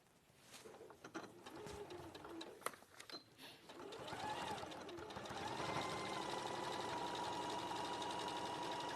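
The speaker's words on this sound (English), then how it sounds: "I'm just going to sew these together." Sewing machine stitching two fabric pieces together, heard first as a few faint clicks and handling sounds, then a steady whirring drone that builds and runs continuously to the end, with no talk.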